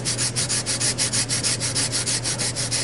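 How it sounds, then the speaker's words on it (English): Hand sanding during an RV-6 aircraft build, with rapid, rhythmic back-and-forth scratchy strokes, loud and close, about five strokes per second with no talk. "I gotta do a little more sanding here"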